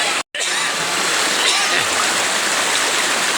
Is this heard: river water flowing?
yes